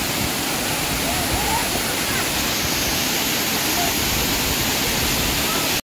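A wave-style waterfall in Mangaon in the Konkan region roars as a loud, continuous broadband rush of falling water. It holds steady throughout, then cuts off abruptly at the very end.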